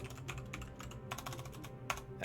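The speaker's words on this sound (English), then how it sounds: "Typing's fun." Quiet, rapid key clicks of someone typing on a computer keyboard during a Beyond All Reason game session, an irregular patter of taps heard close and alone.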